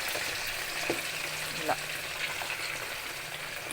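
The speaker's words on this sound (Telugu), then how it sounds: "ఆయిల్ కాగింది ఇలా వేసేసి చికెన్ వేసుకోవాలి" Chicken pieces frying in hot oil for a chicken pickle, a steady soft crackling sizzle with a few faint stirring knocks, fairly quiet and continuous.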